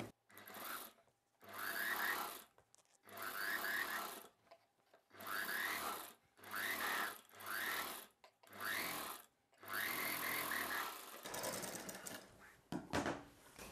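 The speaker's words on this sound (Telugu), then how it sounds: "ఈ పైవైపున ఒక కుట్టు వేసుకోవాలి" A sewing machine stitches an umbrella dress in repeated bursts of rapid whirring, each run of a second or so separated by short pauses, close and alone.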